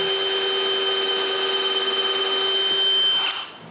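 A power drill bores holes into wooden frames for a nine-drawer dresser, giving a steady high whine that runs loud and close for several seconds before spinning down at the end.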